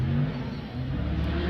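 Drift cars revving and accelerating at Formula Drift Monroe, a 2018 Top 32 competition: a loud, steady engine roar with a low, layered drone that holds without pause.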